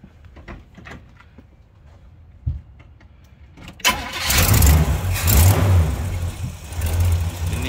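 A 1938 Chevrolet Master Deluxe humpback hotrod cranks after a few quiet clicks and a thump, then catches and roars to life, settling into a loud, rumbling idle with throttle swells, close by.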